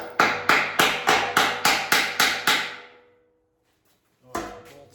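Nine sharp, evenly spaced metal hammer strikes land on a punch to drive it while a submarine door is being removed in a welding shop. Each blow rings out and decays, then a pause follows before one final strike.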